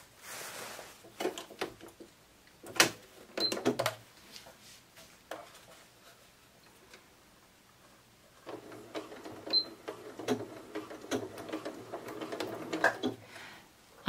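A sewing machine stitches bias tape around a garment armhole, the presser foot lowered, in short bursts of fast mechanical patter with quiet handling clicks and gaps between runs.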